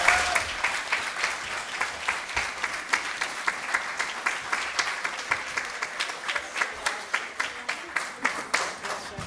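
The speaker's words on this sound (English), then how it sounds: "So let's give them a round of applause" An audience at a junior mayor event in Broadview applauds steadily for the whole stretch, with many hands clapping together and a faint pulsing rhythm emerging, fairly loud and sustained.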